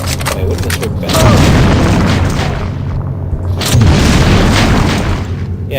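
Grenade explosions in the video game System Shock 2: two loud, booming blasts around a second and nearly four seconds in, each with a long rumbling tail, over dense game noise.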